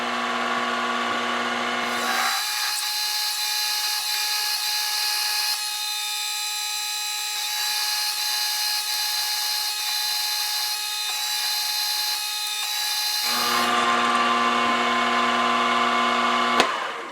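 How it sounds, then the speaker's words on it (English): A stub drill bores straight through metal on a knurl wheel holder job, a steady loud whirring grind that holds for about eleven seconds between louder machine running at the start and end, with no talk. "we'll put a stub drill in and go straight through."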